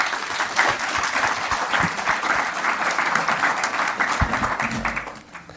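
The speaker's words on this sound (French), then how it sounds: "Vous pouvez l'applaudir." A conference audience claps in sustained, dense applause from start to finish, then it thins out slightly at the close.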